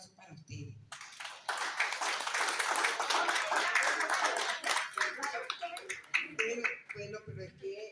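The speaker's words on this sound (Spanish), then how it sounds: "Entonces, un aplauso para ustedes." An audience claps in sustained applause for several seconds after a brief spoken line, the clapping dense and fairly close before it fades and a voice resumes.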